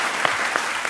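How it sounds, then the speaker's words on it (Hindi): A studio audience at a live political interview show applauds, dense clapping held at an even level for the whole moment, with a few sharper claps standing out. "तालियां"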